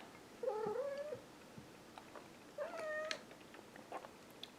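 A house cat gives two clear, drawn-out meows, close by and moderately loud, separated by a short pause over faint background hiss.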